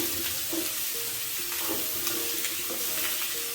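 Thick-cut, coarsely chopped onions fry in a pan, giving a steady crackling sizzle with occasional stirring clinks, close and continuous, with no talk.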